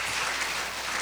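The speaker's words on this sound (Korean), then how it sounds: "박수!" Congregation in a church service applauding together, a dense steady wash of clapping filling the space with no voices on top.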